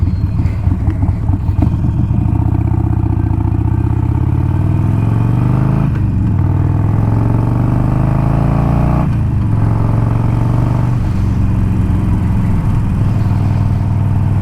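A 2020 Harley-Davidson Iron 1200 fitted with an aftermarket exhaust idles with a loud, steady, close-up rumble. Its pitch swells and dips through several revs, and nothing else is heard over it.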